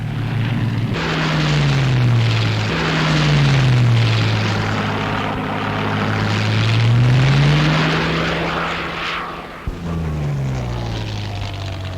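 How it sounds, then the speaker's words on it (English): A propeller aircraft flown by an RAF pilot drones loudly overhead during a 1944 flight display, its engine pitch swelling and falling in long sweeps as it passes and manoeuvres, with no voices. "This one is being put through its paces by one of our crack pilots, and as you can see, she handles well"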